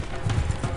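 Hooves of wild Mustang horses pound in a quick galloping clatter on open plains, loud and close for a brief burst with no voices.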